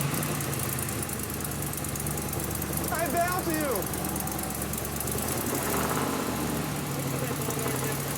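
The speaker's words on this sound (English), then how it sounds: "With the engine up and running, it's time to test the Z28's muscle." A rebuilt 1969 Camaro Z28 engine idles with a steady, close, rumbling drone throughout, and a person speaks briefly over it.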